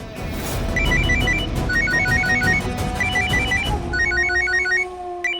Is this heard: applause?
no